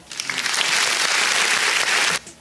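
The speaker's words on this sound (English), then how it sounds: "Round of applause for the S.A.L.T Society podcast." Applause for a podcast, a dense, loud round of clapping that holds steady for about two seconds and then cuts off abruptly, with no voices over it.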